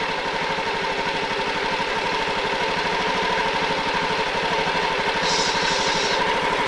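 A motorcycle engine idles steadily while its idle RPM is being adjusted, a close, constant mid-pitched putter with an even pulsing rhythm and no talk over it.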